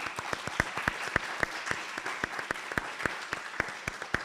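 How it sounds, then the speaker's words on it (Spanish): Modest applause from a lecture audience after a talk on teaching Arabic, with a soft roomy clapping bed and a few sharper individual claps standing out in an irregular rhythm. "le damos un aplauso"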